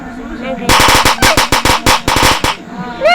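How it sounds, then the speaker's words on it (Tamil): A string of firecrackers bursts in rapid, loud, close cracks for about two seconds, with a person speaking before and after. "சர்ற வெடி வெடிச்சிடுச்சு"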